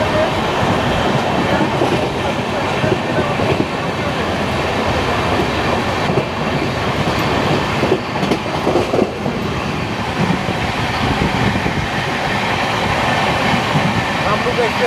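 Steady loud rumble and clatter of a moving train overtaking the Kamrup Express in India, wheels clacking over rail joints throughout with brief fluctuations, heard from on board.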